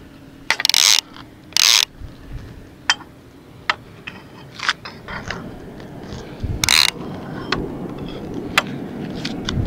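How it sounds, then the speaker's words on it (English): A lever-drag surf fishing reel is adjusted back to strike, producing short sharp mechanical clicks and bursts of ratcheting at irregular intervals over a quiet background, close by and without talk. "This is a uh, level drag, so I'm going to set it back to strike."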